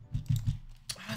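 Quick bursts of typing on a computer keyboard, a handful of close, sharp key clicks in an uneven rhythm, heard alone without talk.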